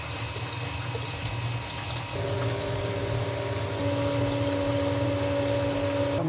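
A flushing station pumps water through a Viessmann Vitodens 111 boiler's heating installation, a steady humming, gurgling flow with tonal whines that step up partway through, continuous and close, with no voices.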